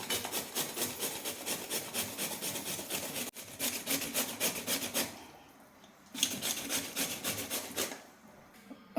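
A bottle gourd is rubbed up and down a large grater in quick, even rasping strokes. The strokes run steadily, stop briefly for a pause, then resume up close.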